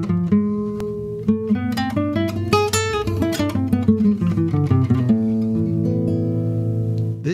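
A harmonic minor scale is played note by note on a synthesized, bright-toned instrument, each pitch sounding clearly and in steady succession at close range, ending on a sustained final note.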